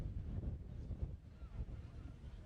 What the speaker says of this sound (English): That wind is gusting pretty strongly here.